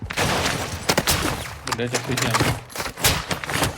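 Rapid bursts of gunfire and explosions in a Call of Duty Warzone DMZ match, loud and close in dense runs with a low rumble, while a player talks over the shooting.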